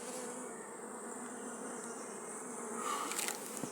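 Carniolan honey bees buzz steadily around an open hive as frames are pulled for the July honey harvest, a dense continuous drone with a brief louder swell of nearby wingbeats toward the end.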